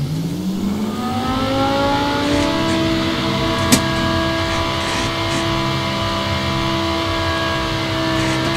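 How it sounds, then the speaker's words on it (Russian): A Lamborghini Huracan Performante's engine starts up in the City Car Driving game, its revs climbing in a rising whine before settling into a loud, steady high idle, with one sharp click midway. "запускаем двигатель"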